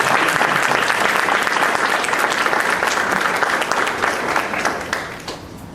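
Dense, loud applause comes from a section of the audience at a school board meeting, sustained and steady before tapering off near the end.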